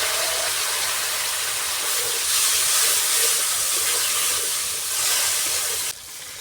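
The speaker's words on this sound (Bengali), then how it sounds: "এবার সিদ্ধ করা মটরশুঁটি দিয়ে দেব।" Boiled green peas tipped into hot, well-fried spiced masala for a fish curry, a loud, steady hissing sizzle that holds for several seconds before suddenly dropping to a quieter simmer.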